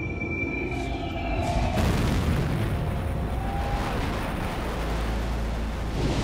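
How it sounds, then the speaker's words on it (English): A cinematic Big Bang explosion effect plays as a deep, sustained roaring boom that surges sharply partway through and keeps rumbling loudly to the end. "The Big Bang."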